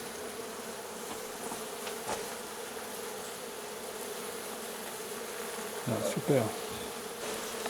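Honeybees buzzing steadily around a giant wild nest being cut out of wooden beams at a château, a continuous close insect drone with a short louder burst near the end.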